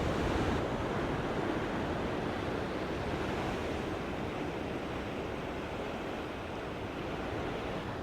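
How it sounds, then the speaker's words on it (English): Ocean waves surge and break in a constant roar close by, with wind buffeting the microphone and no voices over the steady wash. "Look at the waves today, man."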